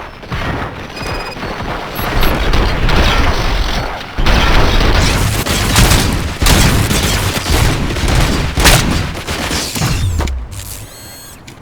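Sustained loud gunfire in RoboCop Rogue City, dense overlapping shots and impacts with mechanical clatter running almost continuously, a sharp burst near the end.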